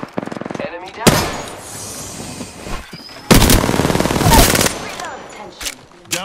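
Automatic weapon fire in the video game Apex Legends: rapid bursts of shots, one near the start and two longer, louder sustained bursts in the middle, with short sharp reports between.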